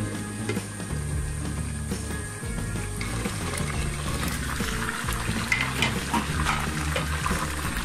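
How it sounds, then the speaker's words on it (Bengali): A whole chicken for murg musallam fries in a covered pan, a low steady sizzle and bubbling with faint clatter, moderately quiet and without talk. "এখন এই দুপাশ ভেজে নিচ্ছি।"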